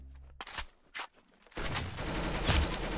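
AUG rifle fire in a tournament video game, with a few sharp shots at first and then a dense, loud stretch of rapid gunfire and clatter.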